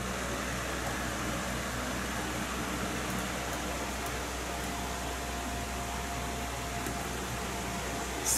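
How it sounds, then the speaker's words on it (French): A repaired table fan runs at maximum speed, giving a steady, even whir with a low hum that holds unchanged throughout, close and continuous with no talking. "Notre ventilateur est au maximum."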